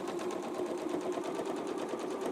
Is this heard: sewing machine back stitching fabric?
yes